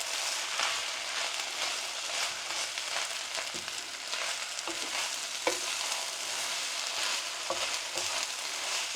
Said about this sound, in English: That sauce hitting the pan has really made that dish come to life.